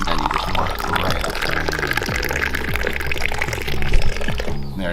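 Liquid poured from a height at a Moroccan street food stall in Marrakech to froth it, a continuous splashing stream close by that swells briefly near the end.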